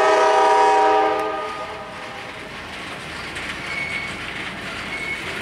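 A freight train rumbles past nearby, a loud horn-like tone fading in the first second, followed by a continuous rolling clatter of wheels on track.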